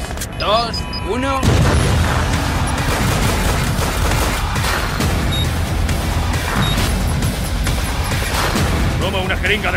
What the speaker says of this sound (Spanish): ¡Explosión en 3, 2, 1!